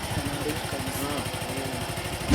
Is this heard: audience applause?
no